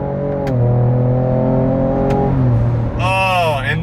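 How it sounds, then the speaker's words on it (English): A 2024 Ford Ranger Raptor's turbocharged engine pulls under acceleration, a loud rising drone that climbs through the gears, with a brief shift dip and a sharp whistling turbo spool near the end, with no talk over it. "It takes a little bit for that turbo to spool up, but once it's kind of in the right power band."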